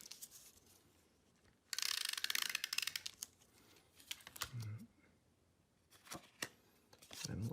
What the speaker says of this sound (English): I'm going to take my tape roller, run it through, making sure to get all four corners